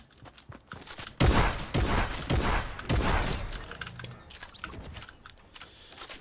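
Shotgun blasts boom in a Fortnite match, several sharp heavy shots in quick succession near the start, followed by fading rumble and clatter, with no talking.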